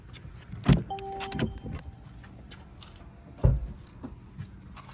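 A car being locked after a mobile detailing job: a sharp clunk followed by a brief electronic chirp, then a second heavy thunk a few seconds later, with quiet outdoor background in between.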